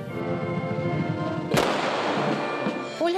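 A single sharp crack of a military gun salute volley at a funeral rings out over a steady military brass band playing, followed by a fading echo; distant and ceremonial.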